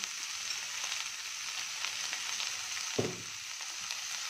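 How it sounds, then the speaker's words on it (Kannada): Snake gourd pieces sautéing in hot oil in a pan, a steady close hiss and crackle with one soft thump partway through, no talking. "ಪಡೋಲ್ಕಾಯಿ ಹಾಕಿ ಬಾಡಿಸ್ತೀನಿ ಇದರೊಳಗಡೆ"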